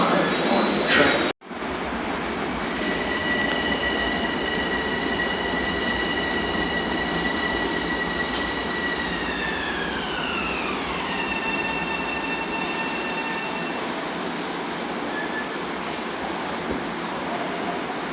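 A Ronkonkoma commuter train pulls into a station, a steady loud rumble with long high wheel squeals that hold, then slide downward as it slows. There is no talking.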